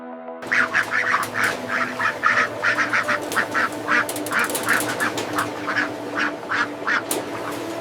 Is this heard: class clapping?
no